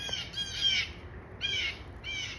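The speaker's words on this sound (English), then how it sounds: "It's a bluebird. 2 of them." Pair of bluebirds calling outdoors, bursts of bright chirping calls in three short clusters with brief pauses between, fairly close and clear over quiet background.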